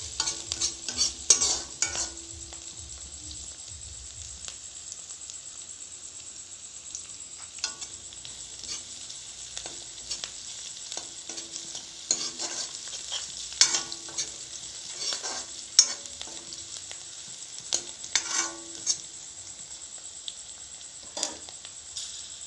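Ginger, garlic, chilli and onion frying in a pan give a soft, steady sizzle, with repeated scraping stirs and light utensil clinks scattered over the whole stretch; no voices.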